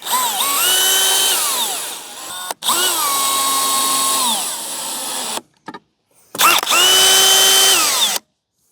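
A power drill drives stainless steel screws to mount a SolaDeck junction box on a cabin roof: three long, loud whirring runs that rise in pitch, each ending abruptly, with short pauses and a faint knock between them.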